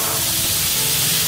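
Drained black chickpeas tipped into a hot tempering, giving a loud, steady hiss and sizzle that holds evenly throughout with no talking.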